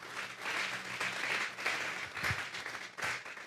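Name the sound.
congregation applause in church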